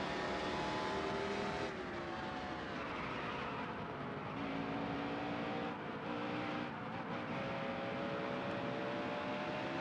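Race truck engine on a qualifying lap in the Dirt to Daytona truck series game, a steady loud drone with shifting engine pitch that holds throughout without letup.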